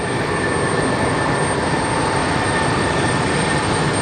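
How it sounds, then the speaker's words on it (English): An Airbus A320 crosses the runway at LaGuardia during a heavy rainstorm. A loud, steady, broadband roar of engine noise mixes with rain, with a faint high whine and no speech. "Cutest A320 ever is now crossing the runway with the strobe on."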